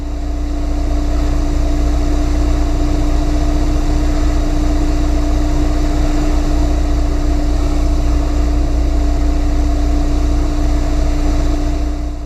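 A light aircraft engine droning steadily in flight on a practice approach, heard as a loud, constant, low hum with a steady tonal whine, unchanging throughout and without voices.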